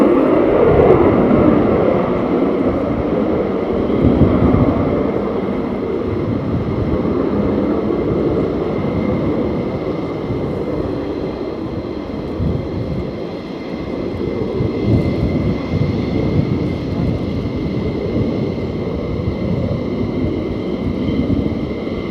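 A military jet at RAF Lakenheath, likely an F-15 Strike Eagle or F-35, roars through a reheat takeoff, a loud, sustained, rumbling jet blast that fills the whole stretch without letup.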